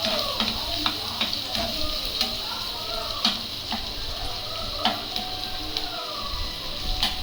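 Thick-cut capsicum pieces frying in a pan give off a steady sizzle, broken by sharp clicks and scrapes from stirring at a fairly regular pace, with faint background noise from a home kitchen.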